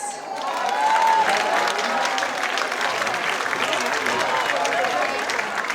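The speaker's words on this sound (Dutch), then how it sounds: "mag ik een heel hartelijk warm applaus" Warm, steady applause from an audience at a village fashion show in a café, loud and sustained throughout after a brief moment at the start, with a few cheers faintly mixed into the clapping.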